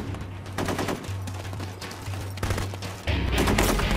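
Gunfire in the video game Full Spectrum Warrior: sustained rapid automatic bursts with a steady mechanical hum underneath, pausing briefly and resuming, ending in a louder, heavier volley.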